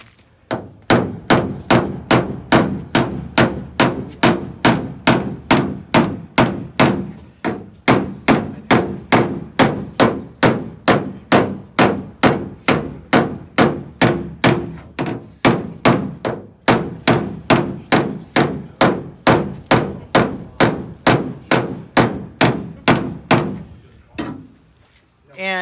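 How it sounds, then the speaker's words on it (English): A hammer shrinks sheet metal on a 1959 Ford Galaxie body panel, sharp loud metallic blows striking in a fast, steady rhythm, roughly two per second, for the whole stretch. "I actually need to take that hammer and shrink it a little bit"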